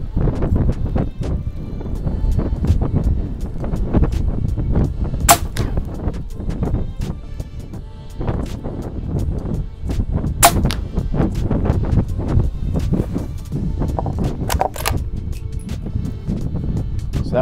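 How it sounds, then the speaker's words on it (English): Five shots from a suppressed 300 Blackout bolt-action rifle firing low, slow subsonic loads, heard as repeated sharp muffled reports spread across a steady outdoor background with no talking. "We just had a 5-shot group with our 300 blackout"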